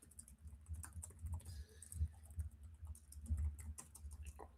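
Fingers type on a computer keyboard in a quiet room, producing soft, close, irregular clicks and patters in quick clusters with short pauses between them.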